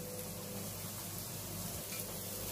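Onion and peppers sauté in a pan with a steady, dense sizzle, close and continuous, no talk.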